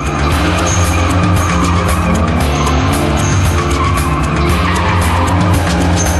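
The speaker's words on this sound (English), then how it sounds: "Blistering burnouts. dynamic drifting." A car does burnouts and donuts, its tires skidding and squealing continuously over a loud, revving engine close by.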